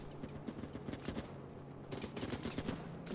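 Gunfire in the video game Running with Rifles: rapid bursts of automatic shots, rather faint and distant, running steadily with a louder, denser stretch in the second half.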